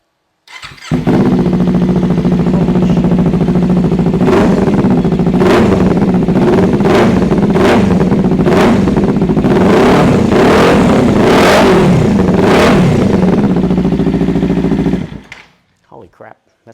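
Kawasaki Ninja 400 track bike with an SCProject CRT muffler starts and idles loudly up close, then revs in a series of sharp throttle blips before shutting off.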